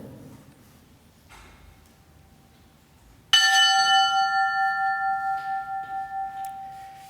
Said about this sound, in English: we'll now have a roll call and a toll of the bell signifying their last alarm